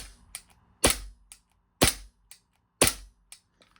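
Lancer Tactical green gas airsoft pistol firing three sharp, evenly spaced pops about a second apart, close and loud with brief mechanical clicks between shots.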